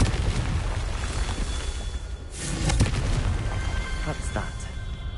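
Confringo explosion spell cast in Hogwarts Legacy, a loud blast burst about midway over a dense, noisy game soundscape, followed by a couple of smaller crackling hits.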